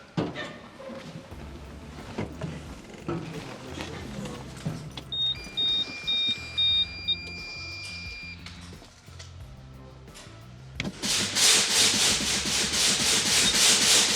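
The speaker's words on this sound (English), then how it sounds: "bleed the air pressure down till the low air buzzer comes on" Low air pressure warning buzzer on a truck, sounding as a steady electronic tone in short pulses and then holding on for a few seconds, with air hissing and rubbing noises around it and a loud burst of air near the end.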